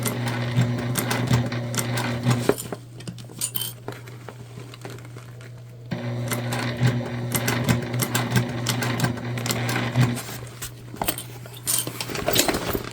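A sewing machine stitches a shoulder bag in two long runs of close, rhythmic motor hum with a steady tapping needle, broken by a brief lull and scattered clinks of metal hardware.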